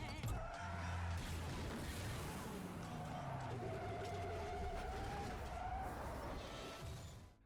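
A truck swerves off the road and into a ditch after its tires blow out on a spike strip, with a steady rumble of engine and tire noise throughout, skidding and scraping tones, and a crunching impact near the end.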